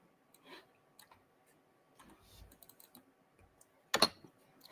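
A computer mouse click while working in Midjourney: faint, scattered ticks lead up to one sharp, close click near the end, with no talking.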